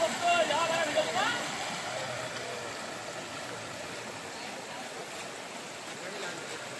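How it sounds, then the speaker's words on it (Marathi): Water rushing in a river during a Dussehra festival idol immersion in a Konkan village near Khed, a broad continuous wash, fairly faint, with a voice briefly audible at the start. "पाण्यात आईचं विसर्जन होत आहे."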